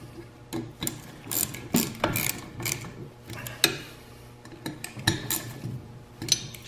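A ratchet snugs down bolts in a cross pattern during assembly on a Ski-Doo 900 ACE snowmobile, giving a string of uneven metallic clicks and clanks at close range, fairly quiet with no talking.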